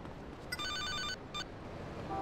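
A phone in GTA Liberty City Stories rings with two short electronic trills, clear but modest in level over a steady background hum.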